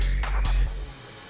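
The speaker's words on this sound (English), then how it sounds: "you can spray just a couple squirts on it" A spray bottle squirting water or Windex onto a motorcycle during washing: two short, close hissing spritzes in quick succession, then a low fading hiss.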